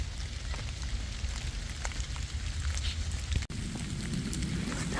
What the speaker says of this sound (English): foggy, a little bit drizzly